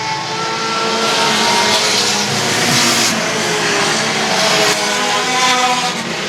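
Pure stock race cars roar around a short oval track in a steady, loud, continuous engine drone that swells slightly as the pack passes, with no voices.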